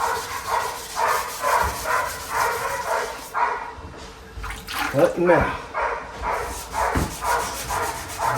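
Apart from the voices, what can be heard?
dogs barking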